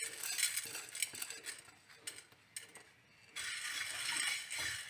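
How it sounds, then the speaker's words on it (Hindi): Whole spices, including coriander seeds, roast in a hot karahi pan for Shinwari chicken karahi, with steady crackling and sizzling, scattered light clinks and scrapes of a utensil against the metal, and a louder burst of frying near the end. "सबसे पहले हम अपने साबित मसालों को भुनेंगे"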